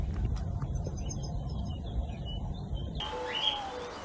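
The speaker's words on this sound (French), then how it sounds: "c'est le bruit réconfortant des oiseaux, des insectes, de l'eau." Birds chirp and coo around a quiet French village, with faint, scattered tweets over a low rustling background, distant and soft.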